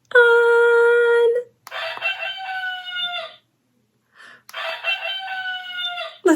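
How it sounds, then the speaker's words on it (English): A toy rooster sounds off with a loud, electronic cock-a-doodle-doo, followed by two more drawn-out crows separated by a short silence. "Let's ruffle the rooster's feathers to hear him cock-a-doodle-doo."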